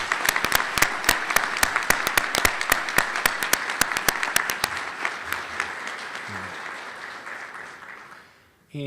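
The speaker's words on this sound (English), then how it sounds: "How about another round of applause for our finalists and our presenters?" Audience applause at a 2019 Teacher of the Year awards ceremony honoring finalists and presenters, a burst of sharp individual claps that thins and fades over several seconds before a brief pause.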